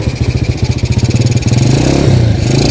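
A 100cc Rusi motorcycle engine fitted to a converted electric vehicle revs close by, first in rapid pulsing bursts, then climbing into a steadier, louder drone, with no voices over it.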